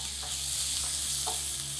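Finely chopped onion and crushed garlic sauté in oil in a pan over a medium flame, giving a steady sizzle with a few light stirring scrapes.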